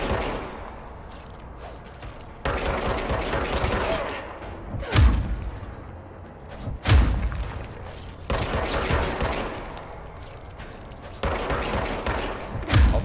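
Bursts of gunfire from the service weapon in the video game Control, heavy repeated booming shots with deep thumps, alternating with rumbling stretches over about thirteen seconds.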